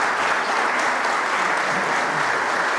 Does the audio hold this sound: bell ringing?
no